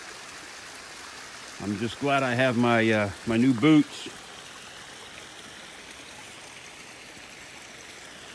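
Running water on a snowy hiking trail, a steady soft trickling wash throughout, with someone speaking briefly over it.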